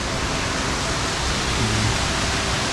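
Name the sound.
Melincwrt waterfall flowing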